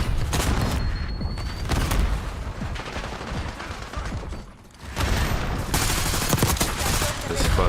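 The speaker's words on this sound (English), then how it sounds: "Incoming frag" A frag grenade detonates in a video game amid a dense, continuous wash of loud gunfire and booms, with a brief dip in the din before the blasts and firing resume.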